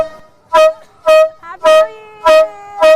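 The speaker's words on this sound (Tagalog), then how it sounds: "meron din daw sila ng giant air horn na tulad nito na binobomba lang" A giant pump air horn blown for New Year celebrations: five loud, blaring honks at roughly half-second intervals, each a short tonal blast, close to the microphone, with a brief softer sound between two of them.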